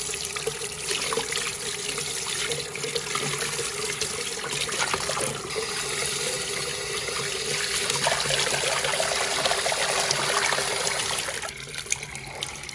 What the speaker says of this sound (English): go rinse your sponge. Start over with a clean sponge.